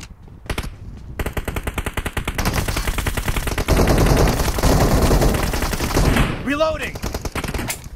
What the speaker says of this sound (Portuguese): Foi muito, muito, muito tiro.